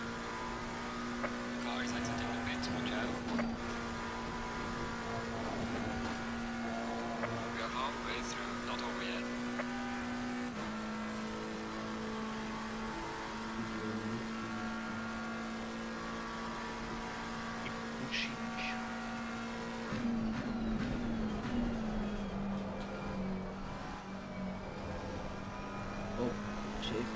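McLaren GT race car in Assetto Corsa Competizione at Spa, its rear-mounted engine droning steadily at high revs for the whole stretch, pitch dipping and climbing through gear changes, with speech over the top.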